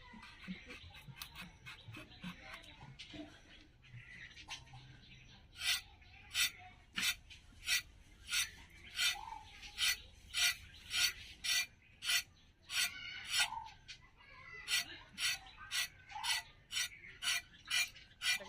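Skin being scraped off a pointed gourd (potol) with a knife, a soft rasping that becomes a steady run of sharp, rhythmic scrapes, close and quiet, with no talk.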